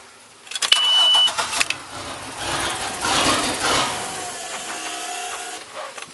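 A 4 3MPI engine cranks during a start test with the in-gear switch disconnected, a loud burst of starter whirring that fades into uneven rough running, close up with no talk.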